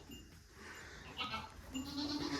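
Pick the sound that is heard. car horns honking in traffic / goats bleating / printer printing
goats bleating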